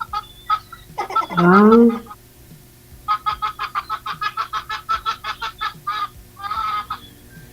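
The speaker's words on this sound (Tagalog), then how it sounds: "Tumatawa nga yung manok." Chickens cluck nearby in a run of rapid, repeated clucks, preceded by scattered single clucks and a brief louder squawk, with a man's short exclamation mixed in.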